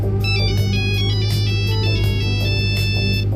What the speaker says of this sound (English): Uh-oh, phone's ringing.